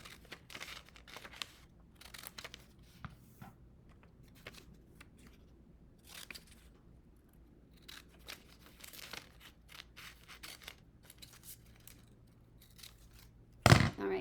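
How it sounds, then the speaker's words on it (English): Scissors snipping through craft paper in short irregular cuts, soft and close with paper rustling between them in a quiet room, ending in a louder thump or rattle. "We do a lot of cutting with these crafts and with cutting out all of your papers."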